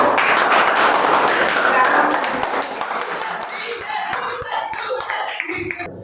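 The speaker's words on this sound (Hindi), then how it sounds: "तो एक बार इनके लिए तालियां हो जाए" An audience at a head and shoulder competition event breaks into loud applause. The clapping thins into scattered claps after a couple of seconds, with some crowd voices mixed in.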